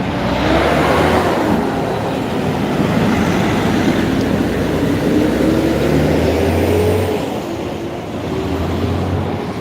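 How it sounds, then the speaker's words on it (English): A truck passes on a city street with a loud, sustained engine rumble and tyre roar that holds for several seconds and then gradually eases as it moves away, with no talk. "let me wait for this truck to come by"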